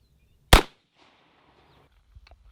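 A single sharp, loud gunshot from a breech-loaded Henry Axe .410 fired at a cardboard target seven yards away, cracking close up and then fading into a short ringing tail, followed by a few faint soft knocks.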